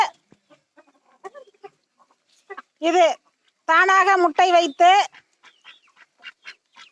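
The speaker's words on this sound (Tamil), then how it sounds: "இதன் பெயர் மணி வாத்து" Mani ducks, an Indian duck breed, giving a few loud, harsh calls in short bursts, alternating with a person speaking nearby.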